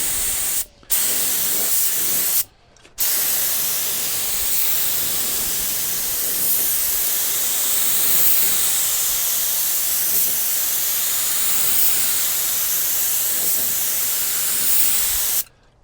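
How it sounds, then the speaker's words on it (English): A spray gun spraying tinted lacquer hisses steadily in long continuous bursts, a broad airy rush with two brief pauses near the start, close and loud. "we're now getting ready to spray our final color. This is again just tinted lacquer."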